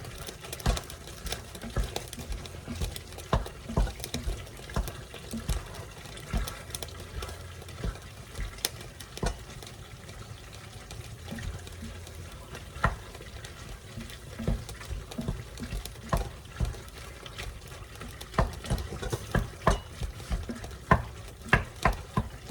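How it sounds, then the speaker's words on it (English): Meat sizzling in a pan on a home stove as it is stirred, steady frying hiss with scraping stir strokes throughout, close and continuous without talk. "Give this meat a stir."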